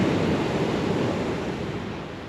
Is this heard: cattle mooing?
no